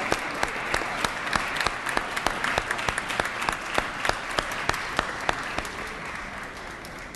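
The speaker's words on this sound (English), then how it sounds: "Please give her a round of applause." Applause fills a legislative assembly chamber, a steady spread of clapping from many hands at moderate level that holds evenly and starts to taper near the end.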